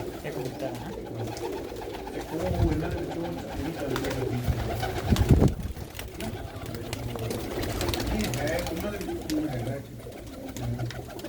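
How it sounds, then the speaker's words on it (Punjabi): Several pigeons in a loft give low, repeated cooing throughout, one rolling coo standing out louder partway through, with steady soft bird murmuring and quiet room noise around it. "ਇਹ ਕਬੂਤਰ ਹੈਗਾ"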